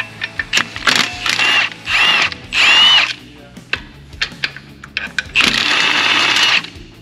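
A power tool zips out firewall bracket bolts during a 7.3L Godzilla engine swap into a Fox Body Mustang, several loud close whirring bursts with ratcheting clicks and clanks between them, no talk.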